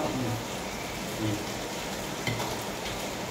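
Steady rain hisses evenly throughout, a dense wash of droplets with no pauses.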